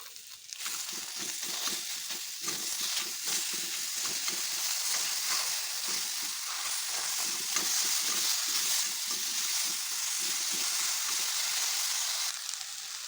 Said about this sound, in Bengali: এই পর্যায়ে আমি অ্যাড করে দিচ্ছি কেটে রাখা টমেটোটা স্বাদ মতো নুন